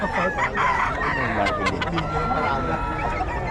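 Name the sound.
rooster crowing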